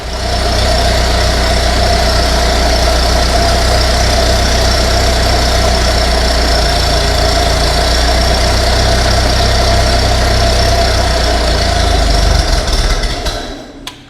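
A Ferguson TEA20 tractor found in a barn runs with a loud, steady, low engine drone close by, then cuts out and falls silent near the end.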